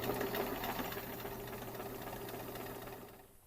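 A home sewing machine stitching a seam with a 3/8 inch allowance runs as a fast, steady mechanical whir close by, then slows and fades to a stop near the end, with no talk.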